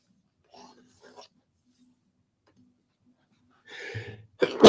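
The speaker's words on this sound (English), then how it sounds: "Excuse me. I have sneezed." A single person's sneeze, preceded by a few faint rustles and a drawn-in breath, then the short sharp burst of the sneeze close to the listener at the very end.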